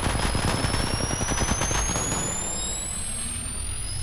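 Automatic gunfire in Apex Legends Mobile, a loud, rapid burst of shots for the first couple of seconds that fades into a lingering engine-like rumble.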